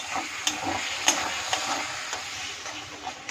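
Tomato puree is stirred into frying spices for a soya chunk curry: a soft, continuous sizzle punctuated by repeated scraping strokes of a spoon in the pan, without speech.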